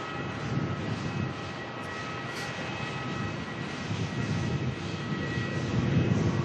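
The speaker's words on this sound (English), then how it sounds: "Etihad on final" Etihad airliner on final approach at Melbourne, passing low overhead: a sustained jet engine roar that swells slightly louder toward the end, alone without speech.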